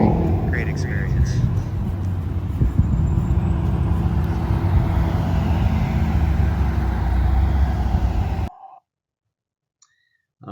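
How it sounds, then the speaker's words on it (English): Cars on a circuit come in from their last lap during Robb Report Car of the Year 2026 judging, a loud, steady engine rumble lasting about eight seconds before cutting off to near silence. "there are the cars coming in from the last lap around"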